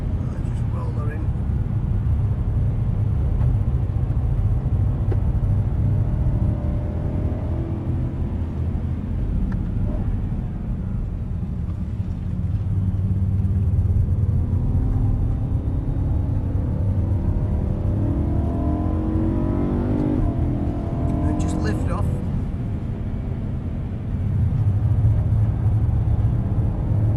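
A race car driving on a track and shifting up into fourth gear: a steady, loud engine rumble runs throughout, with a brief dip around the shift, while someone talks over it.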